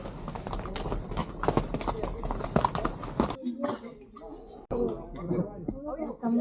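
Horse hooves clip-clop in a steady, close rhythm on a volcano trail in Guatemala, with a voice talking over much of it.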